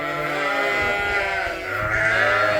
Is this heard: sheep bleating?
yes